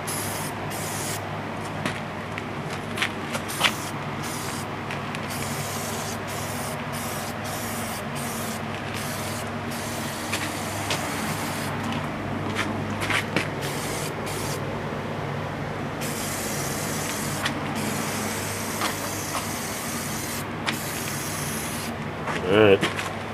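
Spray paint hisses steadily onto a rusty step bumper, a continuous aerosol spray close by with small rattles and bumps throughout.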